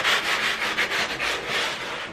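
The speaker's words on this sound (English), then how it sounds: "you can go around with a little bit of sandpaper" Sandpaper rubbing along the edges of a model railway road, a steady close scratchy rasp in continuous back-and-forth strokes with no voices.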